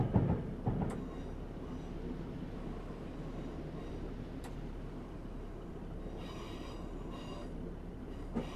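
Class 150/2 diesel train in Train Simulator rolling slowly into a bay platform, a steady low rumble of running gear with a few clanks and faint squeals as it slows.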